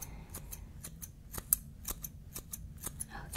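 Scissors snip through hair in a close, crisp series of about a dozen sharp cuts at an uneven, quick rhythm, soft and intimate in a quiet room.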